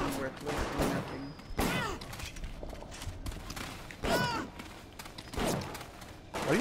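Gunfire in the game Bioshock, several sharp shots spread across the stretch with echoing tails, close and loud, alongside other game sounds and voices.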